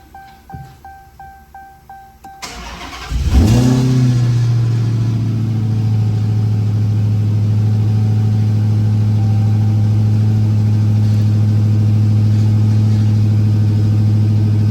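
A series of rapid warning chimes, then a 2018 Dodge Challenger Hellcat engine cranks, catches and roars up before settling into a loud, steady idle.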